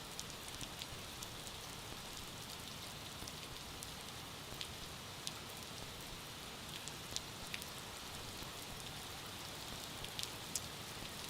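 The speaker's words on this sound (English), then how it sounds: "I think it's just heavy rain." Heavy rain falls steadily at an airport, a dense continuous hiss with scattered sharper drops tapping on nearby surfaces, alone with no voices.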